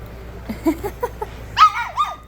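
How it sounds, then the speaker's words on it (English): Sable merle Rough Collie puppies with white faces whimper and yip in a short run of soft squeaks, then give a higher, louder whining cry, heard up close. "They are both very little cute puppies and both have white faces."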